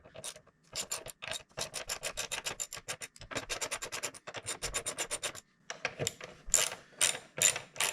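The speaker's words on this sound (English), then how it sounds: "use a 10mm socket, take off the seat catch plate" A 10mm socket on a ratchet clicks in rapid rasping bursts while undoing the bolts of the seat catch plate on a Kawasaki Z900RS motorcycle, close and steady with brief pauses between runs.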